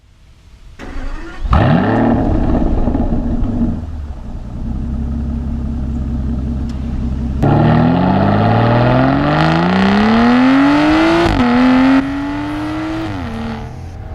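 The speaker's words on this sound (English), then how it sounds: "you're driving too fast" A car engine revs loudly and accelerates hard, its pitch climbing in long sweeps as it speeds along, close and continuous, with no one talking.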